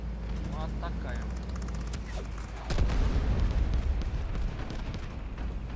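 An artillery barrage strikes in the Delta Force video game: a sharp impact followed by a heavy, sustained rumble of explosions under game noise.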